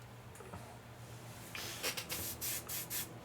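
An airbrush sprays in short bursts during a painting backwash, with soft rhythmic hissing puffs close by after a quiet start.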